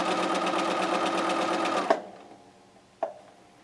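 A sewing machine stitches raw-edge quilt squares in a steady fast chatter for about two seconds, then stops, followed by a single sharp mechanical clack a moment later.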